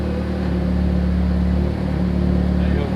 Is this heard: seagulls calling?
no